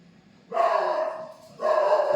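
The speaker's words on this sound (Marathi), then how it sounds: "बघा हा चालू पण झाला भुंकायला." A dog barks twice in long, loud, drawn-out howling barks close by, with a short pause between them.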